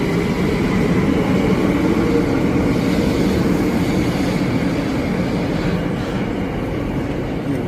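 A London train runs through the Thames Tunnel, giving a loud, continuous rumble with a rhythmic rail clatter that carries on steadily from start to finish, with no voices.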